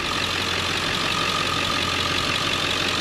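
Pickup truck engine idling with the hood open during maintenance, a steady close mechanical drone with a constant low hum and busy broadband clatter, unchanging for the whole stretch with no voices.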